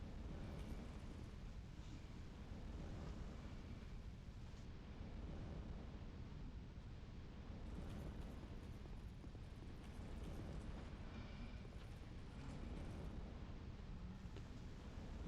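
A deadly explosion in the video game Dark Souls II gives a sustained, loud, rumbling roar that fills the whole stretch steadily, with no voices over it.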